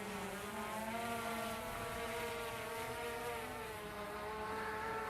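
A DJI Mavic drone flies higher into wind, its propellers giving a steady, buzzing whine with shifting pitch that carries on without a break and without any voices.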